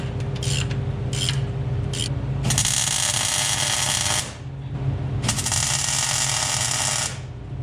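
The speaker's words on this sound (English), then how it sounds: "Now I'm gonna bolt this to the bottom of the trans and we'll get it tacked to our cross member." A power tool drives bolts holding 3/16-inch steel plate to the bottom of a TKX five-speed transmission in an LS-swapped Chevy LUV, with a few short taps followed by two long, harsh whirring bursts up close.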